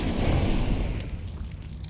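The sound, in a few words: thrown fire grenade burning, Counter-Strike 2 video game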